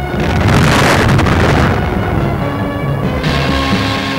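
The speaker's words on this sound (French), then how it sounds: "Et soudain, c'est l'explosion." A loud, rumbling dynamite blast roars out and then dies away into a low, windy, turbulent rush.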